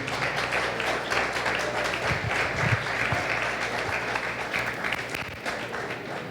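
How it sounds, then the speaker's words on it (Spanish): A church congregation applauds during a sermon, a dense, sustained patter of many hands clapping at moderate loudness throughout, easing slightly toward the end. "Dale un aplauso al Señor"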